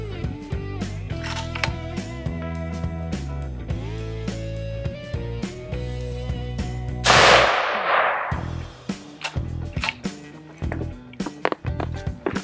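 A Weatherby VAC rifle fires one sharp 6.5mm Creedmoor shot that cracks loudly and rings out in a fading tail, with clicking and handling sounds around it.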